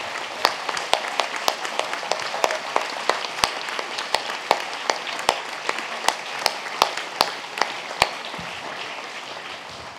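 Audience at a closing plenary session of a congress applauds steadily, a dense wash of many hands clapping with individual sharp claps standing out, sustained throughout.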